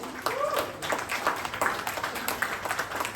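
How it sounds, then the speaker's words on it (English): An audience at a science comedy show in Sydney applauds the first team, dense clapping that runs steadily through the whole moment, with a brief voice-like tone near the start. "Let's give them a round of applause"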